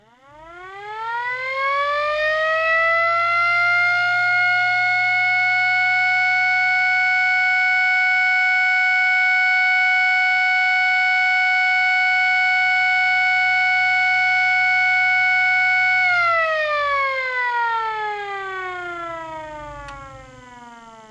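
A mini STH-10 siren with a thick two-layer rotor winds up into a loud steady wail, holds for about fifteen seconds, then slowly winds down with a long fading tail.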